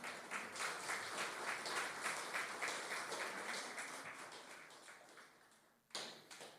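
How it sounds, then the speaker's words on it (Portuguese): Church congregation applauding during a Portuguese-language sermon, a steady dense wash of clapping that tapers slightly, stops briefly near the end, then bursts again. "Você pode aplaudir o nome do Senhor, igreja?"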